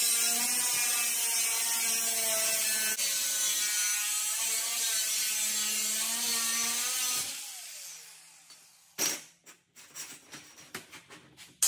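A strip of 20 gauge steel for a car's quarter window frame is cut with a harsh, steady whining rasp for about seven seconds. It tapers off, then gives way to a string of sharp clicks and knocks close by.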